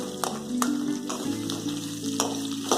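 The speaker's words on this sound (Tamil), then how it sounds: "நல்லா பூண்டு வதங்கின அப்புறம் வெங்காயத்தை சேர்த்துக்கோங்க. வெங்காயத்தை நல்லா வதக்கிக்கோங்க." Onions and garlic sauté in hot oil for a tamarind kara kulambu, a steady close sizzle with a few sharp stirring scrapes against the pan, no voices.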